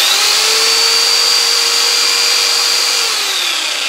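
A power drill spins a washing-machine universal motor that is wired to run as a generator, giving a loud, steady whirring whine with a constant pitch for a few seconds that eases off slightly at the end.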